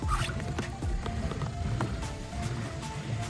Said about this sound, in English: Right now we're paddling against the current.